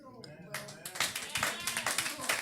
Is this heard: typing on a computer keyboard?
no